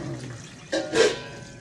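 Rice-washing water is poured in a short splashing gush into a cooking pot, lasting under a second, after a brief quiet stretch.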